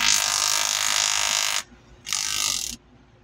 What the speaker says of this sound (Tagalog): Sobrang lakas ng fan.